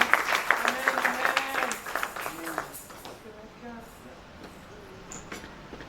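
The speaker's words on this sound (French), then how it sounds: "let us clap for the Lord" A church congregation claps for the Lord during a worship service, with dense, rhythmic clapping mixed with voices and singing that fades to quieter, scattered sounds toward the end.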